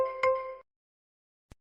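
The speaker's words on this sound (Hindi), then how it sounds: "तभी उसका फोन बजा" A phone in a large flat rings with one short, bright electronic chime lasting about half a second. Silence follows, broken by a single faint click.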